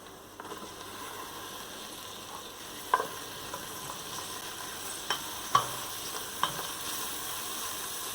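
Deboned saltfish sautéing in a pan for Jamaican seasoned rice, a soft steady sizzle with occasional scrapes and clinks of a spoon stirring against the pan, close and quiet with no talk.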